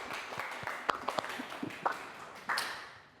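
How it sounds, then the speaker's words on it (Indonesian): A handful of students in a music class clap sparsely for a classmate, quiet scattered claps and taps with a few sharper hits among them. "Boleh tepuk tangan untuk kawan kita, Tri"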